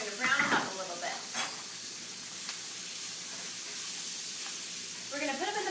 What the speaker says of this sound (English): Now we're going to brown them up a little bit.